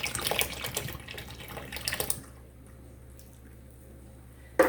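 Evaporated milk poured from a can into a pot of clam chowder, a brief liquid splashing rush lasting about two seconds before fading to quiet, then a small clunk at the end.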